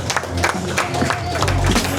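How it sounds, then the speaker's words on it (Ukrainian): A crowd applauds during a sports demonstration, dense scattered clapping at steady volume with voices mixed in underneath. "Оплески!"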